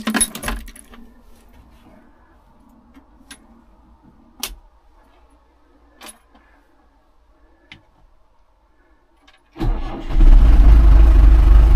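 A Finnish-made James 83 tractor backhoe with a new battery: a few faint clicks and ticks from the cab, then the engine cranks and catches, rumbling steadily and loudly to the end.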